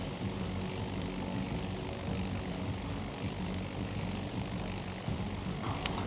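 Propeller planes from the aircraft carrier Kaga fly in the naval battle game World of Warships Legends, giving a steady, dense engine drone that holds at an even loudness throughout with no talking.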